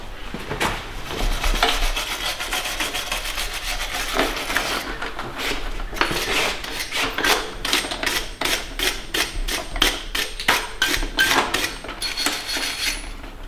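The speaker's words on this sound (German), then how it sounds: "Ich gehe mal mit der Bürste rüber." A brush scrubs back and forth over a part of an Audi RS4 B7 V8 engine, first in loose, rough strokes, then in a quick regular run of close, bristly rasping strokes.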